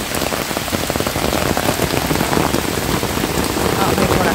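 Heavy rain pours steadily and loudly on surfaces in the farming area of Jujutla during a storm, a dense, continuous patter of close drops with a faint voice now and then.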